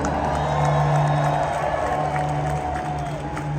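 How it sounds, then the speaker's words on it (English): A large arena crowd at a Monster Jam truck show cheers and applauds in a loud, continuous roar over a steady low hum, with scattered whoops rising above it. "We need you all to give them a big round of applause."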